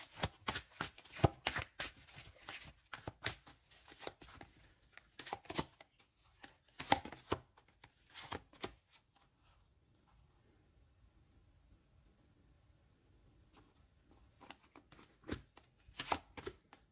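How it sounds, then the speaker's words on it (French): Tarot cards being shuffled and drawn during a French-language horoscope reading: bursts of crisp riffling and flicking in clusters, a quieter stretch in the middle, then more shuffling near the end, close and alone. "Je vais mettre une carte sur ce message"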